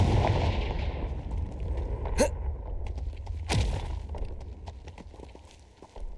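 Spell casts in the Hogwarts Legacy game, Expelliarmus then Confringo, each a sharp whooshing blast, two distinct loud bursts over ambient game noise and footsteps.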